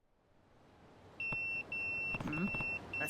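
A pager in Yakuza 0 goes off with four bright, evenly spaced electronic beeps. The beeps cut in sharply after a quiet lead-in and stay clear and up close.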